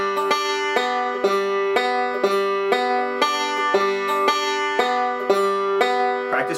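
A bluegrass banjo picks a repeating forward-reverse roll pattern, thumb then backward strokes ending on the index finger, in bright, evenly spaced plucked notes, close and alone.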